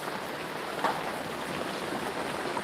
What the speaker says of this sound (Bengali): বৃষ্টি শব্দ শুনতে পাচ্ছেন